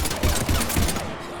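Heavy gunfire in the video game Mass Effect 3, a dense, rapid fusillade of overlapping shots pulsing in quick bursts, loud and close, then tapering off near the end.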